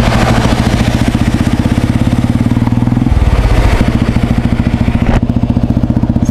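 A Royal Enfield Bullet motorcycle engine thumps in a steady, loud, close rhythm throughout, its firing pulses shifting slightly around the midpoint as if the revs change, with no talk over it.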